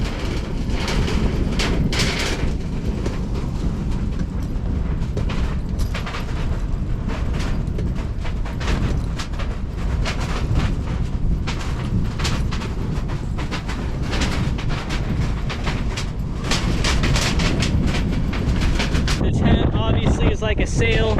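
In strong winter wind, a wood stove in a canvas tipi tent rubs against the stove jack. The result is a loud, continuous rumbling, flapping roar with gusty swells that stays fairly constant throughout.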